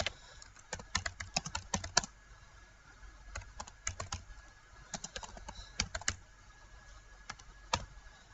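Typing on a computer keyboard while writing code in Visual Studio, with quick bursts of key clicks separated by short pauses, close and quiet, and no voices.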